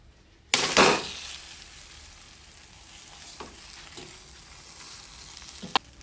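An omelet with butter and tomato sizzles in a pan, with a loud burst of frying as ingredients hit the hot surface, then a steady softer sizzle with occasional scrapes and a sharp clink near the end.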